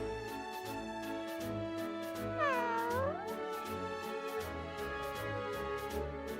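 A cat peeking through a gap in a door gives one clear, drawn-out meow partway through, close by, over steady background music.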